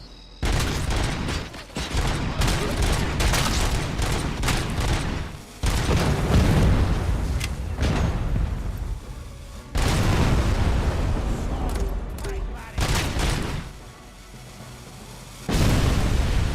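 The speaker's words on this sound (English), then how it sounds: "Those grenades he was launching came nowhere close to me." Grenade explosions in RoboCop: Rogue City on Xbox Series X: a run of loud, close booms and crackling blasts. Bursts of gunfire come in waves, broken by a few brief quieter gaps.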